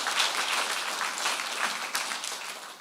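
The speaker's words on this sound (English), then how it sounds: "Let's give him another round of applause." An audience at an NLP conference applauds a speaker after a talk, with brisk, crowded clapping that stays loud throughout before tapering slightly near the end.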